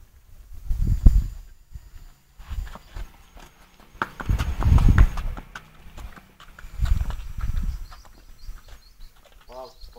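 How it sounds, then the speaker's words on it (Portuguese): Horses and donkeys clopping their hooves in several rhythmic bursts, close and fairly loud, with quieter gaps between them and a little farm background noise. "Os dois cavalos. Os dois burros."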